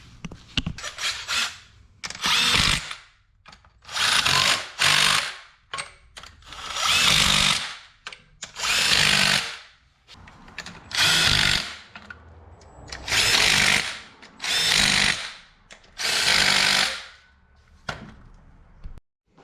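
A power tool tightens engine mount bolts on a Nissan 350Z during an LS engine swap in a garage, firing in about nine short rhythmic bursts with brief gaps between, loud and close.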